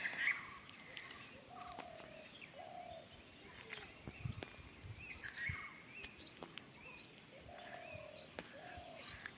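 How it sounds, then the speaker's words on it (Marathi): Birds call in the evening outside Someshwar temple, a laterite-stone shrine near a riverside in Kirduve village by Devrukh: scattered chirps, whistled notes and soft dove-like coos, fairly distant over a quiet background, no one talking. "पक्ष्यांचे आवाज"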